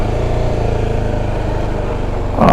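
A motorcycle rides a rough Ladakh mountain road between Hunder and Pangong, its engine droning steadily and close, with the sound swelling slightly louder right at the end.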